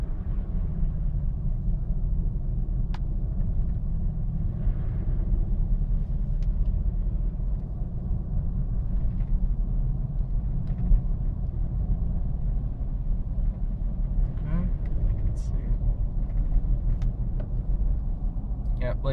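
A car cruises along at steady speed, its low road and engine rumble continuous and close throughout, with a few faint clicks and ticks on top.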